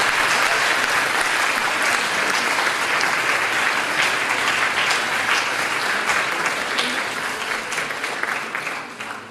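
A large audience applauds at a conference, dense continuous clapping that holds steady and loud throughout before tapering slightly toward the end, with no speech.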